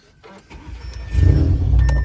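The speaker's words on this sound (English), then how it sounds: "So let me turn on the car right now." A car engine cranks and catches, rising from a quiet start into a steady, loud low rumble that settles toward idle close by.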